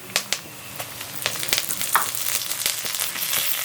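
Curry leaves fry in hot oil with urad dal, chana dal and a dried red chilli for a temple-style puliyodharai tempering, giving a close, hissing sizzle punctuated by sharp pops and crackles.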